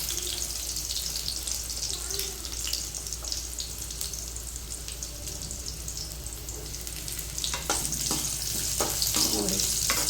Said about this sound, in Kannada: ನಿಧಾನವಾಗಿ ಹೋಳೆಲ್ಲ ಫ್ರೈ ಆಗಬೇಕು.